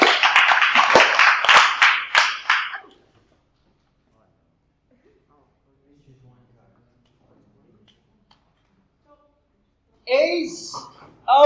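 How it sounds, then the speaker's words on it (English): Sharp hand claps sound in a rapid burst at the start, then there is near silence, and a brief voice comes in at the end. "Three claps."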